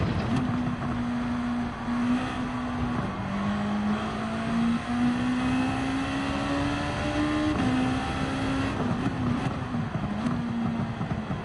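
Gran Turismo 7 race engine of the NSX Group 2 car, a steady loud drone whose pitch climbs slowly through long held gears with brief shift dips, continuous and close throughout.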